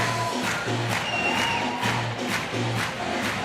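A basketball crowd at an outdoor 3x3 dunk contest cheers and roars continuously, loud and close, with rhythmic bursts of noise swelling throughout.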